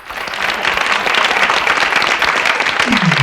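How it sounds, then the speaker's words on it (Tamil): Loud, sustained applause from a large audience at a school and college students' Thirukkural speaking competition fills the clip, steady throughout with a brief voice-like tone near the end. "ஒரு அரங்கம் நிறைந்த கைத்தட்டல்"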